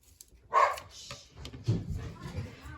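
Small puppy indoors giving a sharp bark followed by softer yips and whimpering, close and fairly quiet, with low background murmur.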